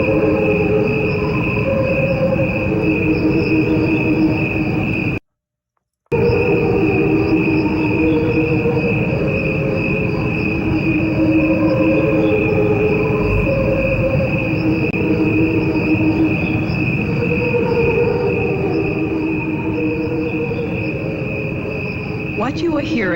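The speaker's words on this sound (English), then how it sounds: "There's crickets slowed down and crickets at normal speed." A recording of crickets plays at normal speed and slowed down together: dense, steady chirping with a sustained high trill over a lower pulsing layer, continuous and loud apart from one brief cut to silence.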